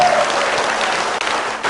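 Dense, steady audience applause after a live song performance, loud and continuous clapping from a crowd throughout.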